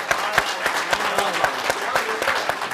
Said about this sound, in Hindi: तालियां होनी चाहिए भाई।